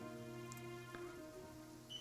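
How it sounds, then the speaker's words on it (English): Rain falling in the Fontaine region of the video game Genshin Impact, a faint steady patter beneath a sustained tonal music bed, with no talk. "Sí hace que llueva de verdad"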